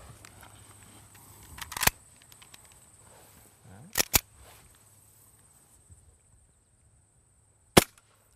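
Colt M1911 CO2 airsoft pistol firing 0.25 gram biodegradable BBs, sharp close cracks spaced a few seconds apart, some in quick pairs, with faint handling noise in between.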